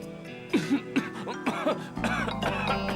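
A person coughs after choking on a potato chip, several harsh, close coughs and throat-clearing bursts in quick succession over a quiet indoor background.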